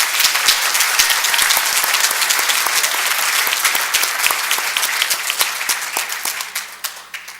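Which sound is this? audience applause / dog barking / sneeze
audience applause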